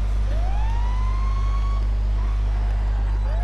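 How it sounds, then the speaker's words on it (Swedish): Fire engine sirens in GTA 5 wail in rising and falling sweeps over a loud, steady low engine hum, with a fresh sweep starting near the end; no one speaks. "Vi sätter på sirenerna."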